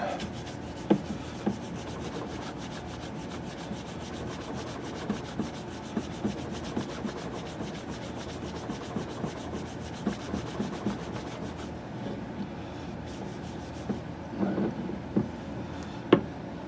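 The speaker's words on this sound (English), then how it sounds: "I'm going to hand rub those drops in" Hand rubbing a few drops of oil into the wood of a rifle stock from a Lyman Great Plains rifle kit, a soft, steady, close friction hiss with occasional light taps.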